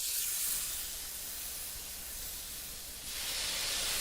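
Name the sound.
coffee-crusted food searing in a pan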